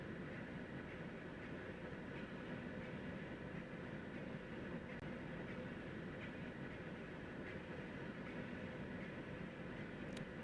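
Class 91 electric train in Train Sim Classic cruising toward Newcastle, a steady, quiet low rumble with faint rolling noise and no talk throughout.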